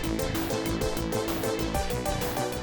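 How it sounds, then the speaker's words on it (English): Bright, busy FM synth game music plays with punchy bass and quick melodic notes in a steady, driving rhythm, quietly mixed. "I think the game will have FM music enabled,"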